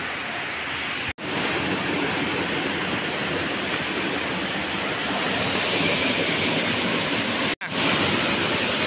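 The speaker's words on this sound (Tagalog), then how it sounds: "First waterfall." Waterfall in a canyon at Colador, Samar, Philippines, a loud unbroken rushing roar of falling water filling the space at close range, with two brief cut-outs.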